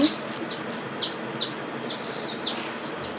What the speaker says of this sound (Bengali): এদিকে আমার মুরগি পালছি, তো খুব বেশি ওরা চেঁচামেচি করছে।